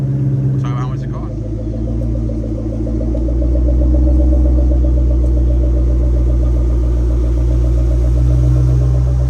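A 2004 Ford Cobra engine idling as it warms up, a loud, steady low rumble with a slight swell near the start, close to the car, with a voice talking over it.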